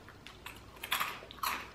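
Crisp bites and chews into a crunchy, spicy American snack, several sharp close crackling crunches in quick irregular bursts with no talking.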